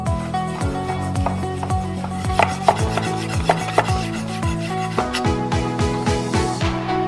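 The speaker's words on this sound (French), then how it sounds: "Moi je vais le faire à la main. Je l'aime bien un peu épaisse, un peu charnue. Je les coupe en 4." Mushrooms being cut into quarters by hand with a knife, a steady series of firm knife strokes and thumps on a board, close and fairly loud, with rubbing scrapes between cuts and a tonal hum running underneath.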